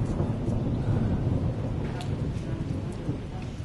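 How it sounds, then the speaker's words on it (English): Heavy rain hammers down while thunder rumbles low and steady, loud and continuous throughout the short stretch with no voices. "Thunder and lightning"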